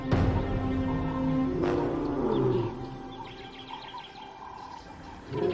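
White lions roaring to signal their position on a wildlife reserve, a few deep roars in the first half fading to quieter ambience with birds chirping in the background, no talk.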